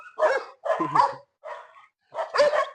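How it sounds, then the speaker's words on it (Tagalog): A dog barks outdoors during a jog in Batangas, four short clustered bursts of close, loud barking with brief yips, separated by short pauses. "At may aso nga."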